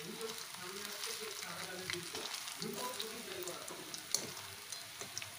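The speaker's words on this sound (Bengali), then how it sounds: "এইভাবেই আমি বড়াগুলো সমস্তটাই ভেজে নেব" Rosh bora fritters made from lentil batter deep-fry in hot oil with a continuous soft bubbling sizzle, heard close and fairly quiet with light stirring clicks.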